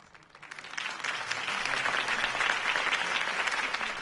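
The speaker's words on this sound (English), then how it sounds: "If only Mr. Wayne, my campaign's largest backer, could have heard that applause" Crowd applause following a campaign speech in a Batman video game, a dense steady clapping that swells in over the first second and holds at a moderate level without voices.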